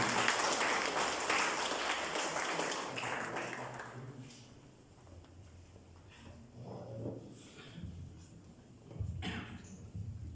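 Audience applause at a political party's regional launch rally in Mauritius, welcoming the secretary general; a dense burst of crowd clapping fades after about four seconds, leaving scattered taps, rustling and faint murmurs.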